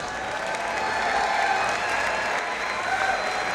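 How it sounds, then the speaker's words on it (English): A crowd at a Muay Thai fight night in the UK applauds both fighters in the ring, a dense, steady roar of clapping filling the whole stretch with scattered cheers. "please, a massive round of applause for both fighters"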